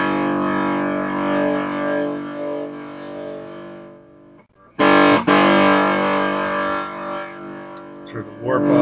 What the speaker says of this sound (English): This thing's, for all intents and purposes, a 4-knob fuzz face.